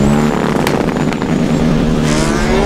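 A Formula Student race car engine during an endurance event, droning loud and close at steady revs with a rough, uneven edge, a brief dip near the middle, then holding on with no gear changes.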